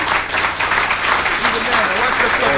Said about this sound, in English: give a warm welcome, a rousing applause to Dr.